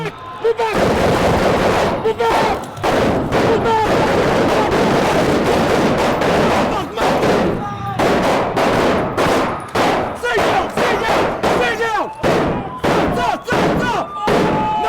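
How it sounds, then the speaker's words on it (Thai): Loud, sustained bursts of rapid machine gun fire, with dense chattering volleys separated by brief pauses and echoing cracks throughout. "เสียงปืนกลรัวขึ้น"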